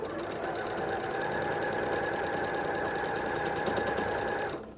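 A sewing machine stitches quilted fabric in a fast, even whirring run for nearly five seconds, close and steady, then stops abruptly.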